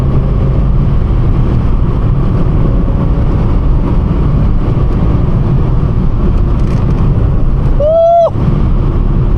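Ford Fiesta engine droning while driving a windy country lane, a loud continuous rumble mixed with buffeting wind noise and a brief rising whistle-like squeal near the end.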